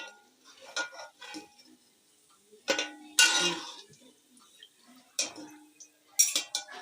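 Fried onions being lifted out of a pan of oil, with scattered metallic clinks and scrapes of utensil against the pan, several louder knocks, and quiet gaps in between.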